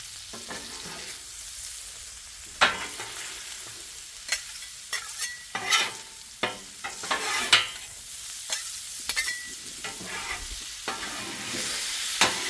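Garlic frying in a pan for bacon fried rice, a steady sizzle running throughout with repeated scraping and stirring knocks from a utensil, close and moderately loud, no voices.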